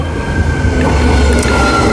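Electric commuter train, set 53, arriving at City West station, a loud close rumble with a thin steady whine and a brief squeal of wheels as it rolls in, with no voices.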